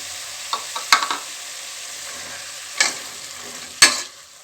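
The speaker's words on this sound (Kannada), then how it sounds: "ಚೆನ್ನಾಗಿ ಫ್ರೈ ಮಾಡ್ಕೊತಿದ್ದೀನಿ ಈ ರೀತಿ ಎಣ್ಣೆಯಲ್ಲಿ ಚೆನ್ನಾಗಿ ಫ್ರೈ ಆಗಬೇಕು" Two chopped tomatoes fry in oil in a pan with a steady, close sizzle. A spoon stirs them now and then, giving a few sharp scrapes and clinks against the pan.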